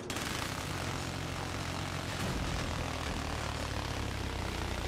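Aircraft engine noise from a Battlefield 4 match roars loud and continuous, with a broad, steady rumble that swells slightly midway before holding.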